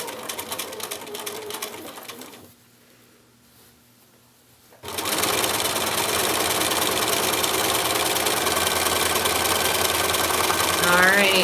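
A sewing machine topstitches along the edge of a pencil pouch, running steadily with a brief quiet pause partway through before starting up again and continuing for several seconds, close to the mic.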